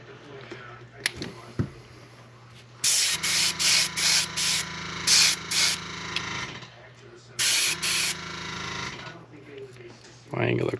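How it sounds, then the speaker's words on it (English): Black spray paint sprayed at an angle over a wire ribbon stencil in several sharp hissing bursts, each lasting under a second to a couple of seconds, with quieter handling noise between. "And when we spray this black, we're going to angle it."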